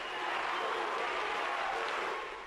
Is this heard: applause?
yes